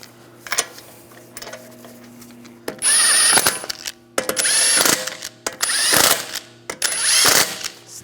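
Lug bolts are run down onto the wheel of a 2009–2013 BMW 328i xDrive with a power tool in four loud ratcheting bursts, each lasting about a second, separated by short pauses and quieter workshop handling noise.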